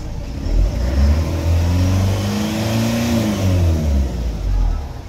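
A nearby King Long ambulance engine runs and revs up and down, its pitch rising and falling in a steady swell with no talking.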